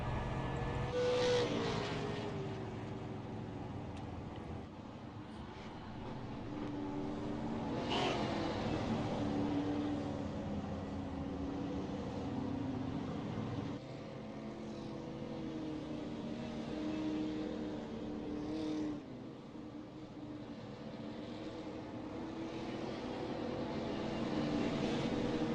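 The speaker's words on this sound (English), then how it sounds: "A few more cars going around." Super late model race cars circle a track, a steady distant engine drone that swells and fades as cars pass, with a broad roaring wash and no clear voices.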